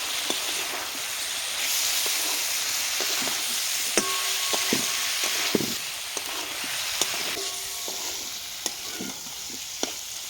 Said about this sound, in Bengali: নাড়াচাড়া করে এটাকে ভালোভাবে কষিয়ে নিয়েছি